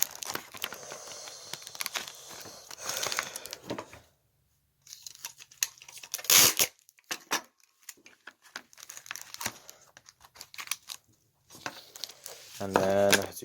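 Tape is pulled off a roll and pressed onto worn book covers, close and quiet, in scattered crinkling rips and rustles with pauses between, plus one sharper tearing burst.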